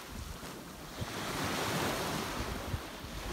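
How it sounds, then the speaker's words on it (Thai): Sea waves wash steadily onto a beach, a broad continuous surf roar that swells toward the middle, with wind buffeting the microphone and a couple of brief thumps. "ริมหาดชายฟังเสียงคลื่นทะเลด้วยค่ะ"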